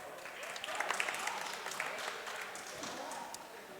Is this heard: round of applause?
yes